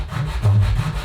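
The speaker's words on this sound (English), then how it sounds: "I am gonna just hit them with a little sandpaper just to make sure that all of the bottoms are nice and neat" Popsicle sticks being sanded with sandpaper, a short loud close rasping rub with one stronger stroke in the middle, no talking.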